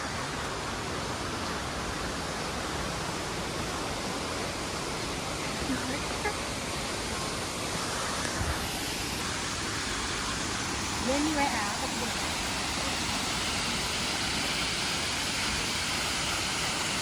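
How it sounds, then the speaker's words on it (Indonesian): The Sikuleka waterfall roars as a dense, constant rush of falling water, loud and unbroken throughout with no clear pauses. "Kita ke air terjun Sikuleka."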